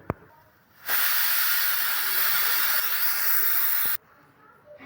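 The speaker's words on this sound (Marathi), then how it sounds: "मध्यम गॅसवर आपल्याला एक सिट्टी करायची आहे" A pressure cooker on medium gas vents steam in one sustained loud hiss lasting about three seconds, starting and stopping abruptly, close and alone.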